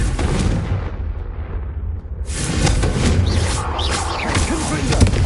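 Fiery Confringo blast spells cast in the video game Hogwarts Legacy, with rumbling booms and crackling bursts rising loudly over a dense, busy background.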